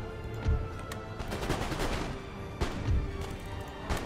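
Musketeers fire volleys in an Empire Total War battle, giving a dense crackle of overlapping musket shots with heavier thuds near the start and again past the midpoint, moderately loud with no voices.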